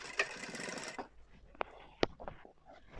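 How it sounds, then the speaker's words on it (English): A sewing machine stitching a trouser seam, heard as a brief close whirring run at the start, then a few faint clicks and knocks in a quiet room. "I sew straight down to the crotch level here."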